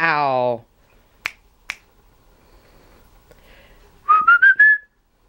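African grey parrot gives a short, rising whistled phrase of several quick notes near the end, close and clear, after a few sharp snaps and a brief vocal sound.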